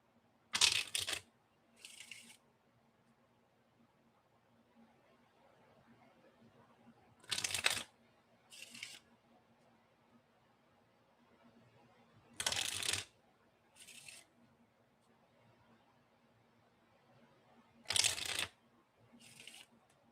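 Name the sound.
shuffling tarot cards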